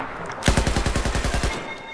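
Rapid burst of roughly a dozen rifle shots from a DMR in the video game Battlefield 4, evenly spaced and loud, fired in quick succession without any talk.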